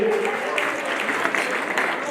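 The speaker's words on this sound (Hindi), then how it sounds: "जोरदार ताली बजाइए" Audience clapping at a Jain religious ceremony, a Siddhachakra Mahamandal Vidhan in Gairatganj, steady dense applause throughout at moderate level, with a voice mixed in.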